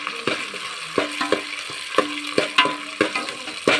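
Pigeon peas sizzle and crackle in a hot pan while a utensil scrapes and stirs in quick, uneven strokes, close up.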